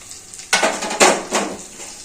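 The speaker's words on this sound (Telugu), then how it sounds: "ఆవాలు జీలకర్ర తిరువాత వేసుకోవాలి అండి" Mustard seeds and cumin hit hot oil for a tempering for eggplant curry, giving three sharp, close bursts of crackling sizzle that each fade quickly, with no voices.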